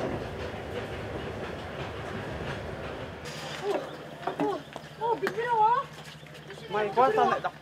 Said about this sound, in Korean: 밤 10시에 하노이역을 출발한 기차가 약 9시간을 달려 라오카이역에 도착했다.